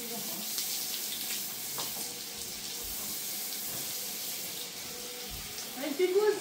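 Water hose spraying steadily to shower a horse outdoors, a continuous hissing rush at moderate distance, with faint voices and a brief louder burst near the end.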